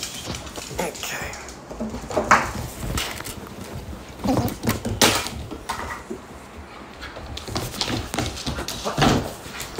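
A dog in a video game whimpers and whines in repeated short cries, mixed with scattered clicks and thuds while someone talks over it.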